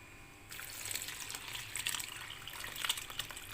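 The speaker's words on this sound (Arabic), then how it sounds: "احط بقى عليها ايه لبن" Milk is poured onto dough for a tray of country bread, a steady close liquid splash and gush running for about three seconds, with no talk over it.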